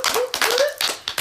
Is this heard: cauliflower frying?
no